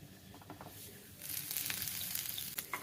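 Poha paniyaram cooks in a pan, a quiet low crackle that swells into a brighter steady sizzle partway through, close and alone without talk.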